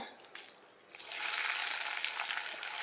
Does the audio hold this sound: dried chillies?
yes